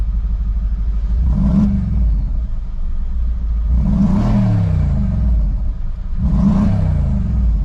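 A warm Mercedes G63 AMG engine revs up three times at a steady interval, each burst climbing and falling over a heavy low rumble, loud and close.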